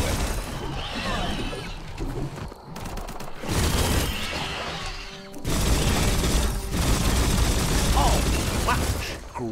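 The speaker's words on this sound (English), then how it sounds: "Bullets everywhere." Gunfire in the Biomutant video game: dense, loud bursts of shots and crashing impacts that keep going in waves, with brief drops between barrages.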